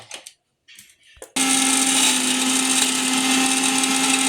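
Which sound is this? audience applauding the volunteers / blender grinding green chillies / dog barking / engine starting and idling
blender grinding green chillies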